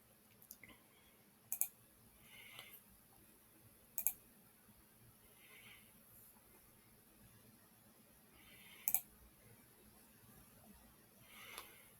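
Computer mouse clicks while choosing a background image in the Wix website builder, four short, sharp clicks spread a few seconds apart, each one alone over a faint, quiet background hiss.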